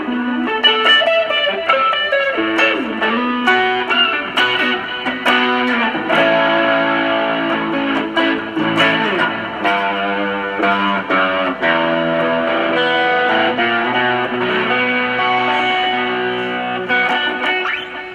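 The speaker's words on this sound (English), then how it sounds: "so that's SD1 Super Distortion" A Boss SD-1 Super Distortion pedal colors an electric guitar with crunchy, sustained overdrive, playing chords and single-note lines in a steady rock rhythm for about eighteen seconds.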